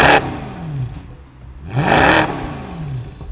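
Mercedes W204 C63 AMG with an upgraded exhaust revving loudly in two sharp bursts, each rising to a roar then falling back, with a brief lull between them.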